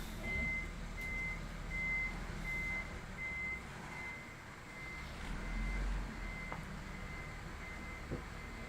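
A truck reverses along a residential street, its backup alarm repeating steady evenly spaced beeps at moderate distance over a low rumbling engine and street hum, with no talking.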